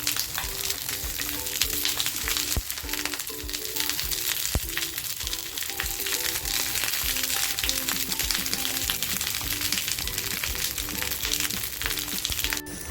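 Eggplant slices frying lightly in a pan, browning on both sides: a steady, dense sizzle that runs close and continuous with a few small pops and crackles and no talk.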